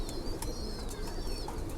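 Pigeons coo softly in a loft after the flying birds have been released, a few brief calls over steady, noisy background hiss with no voices.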